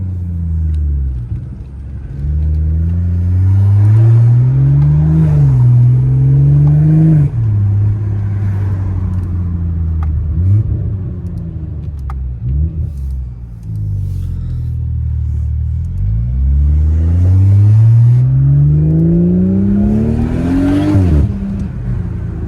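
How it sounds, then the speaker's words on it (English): A BMW 540i G30's engine and exhaust rev and pull through rising gears, a loud, close, continuous rumble that climbs in pitch, drops at each shift and climbs again. "Let me know if I should get a mic for the exhaust."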